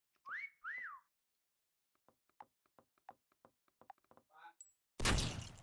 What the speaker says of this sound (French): Mais c'est parce qu'il a sifflé.